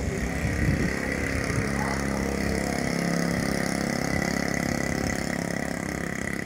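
A 1969 Honda Mini Trail small motorcycle found in a barn runs with a steady, loud buzzing engine note that stays fairly constant without pauses.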